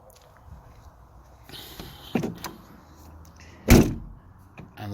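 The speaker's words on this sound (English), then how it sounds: "And the door's shut great." The door of a Land Rover Defender 90 TD5 with replaced hinges is shut firmly in one close, solid slam, preceded by a few light clicks and handling knocks in a quiet outdoor setting.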